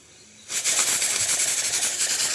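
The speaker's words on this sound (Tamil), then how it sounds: "இதா பாருங்கள் குக்கர் விசில் வந்துருச்சு" After a brief quiet moment, a pressure cooker whistle lets out a loud, sharp hiss of steam that keeps gushing steadily, pulsing slightly as pressure escapes.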